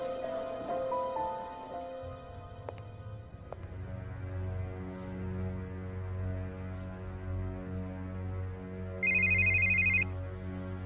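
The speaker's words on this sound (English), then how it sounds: "That's my phone. Can you get it?" A mobile phone plays a melodic ringtone that repeats steadily and fairly loud, with a brighter beeping pattern joining near the end, heard alone without talking.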